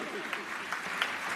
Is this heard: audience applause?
yes